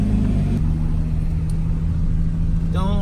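A Nissan 350Z on a test drive produces a loud, steady low engine drone and road rumble from inside the cabin, with a brief rising whine near the end.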